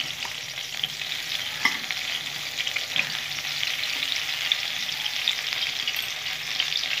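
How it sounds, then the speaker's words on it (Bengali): Boroli fish frying in oil in a pan, a steady bright sizzling hiss with a few faint stirring taps, fairly quiet and close, no speech. "দেখো, মাছ ভেজে নিচ্ছি।"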